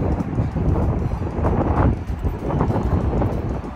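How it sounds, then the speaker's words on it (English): Strong wind blowing hard and steadily across a microphone outdoors, a loud continuous rumbling buffet with gusty swells and no talk. "It's windy."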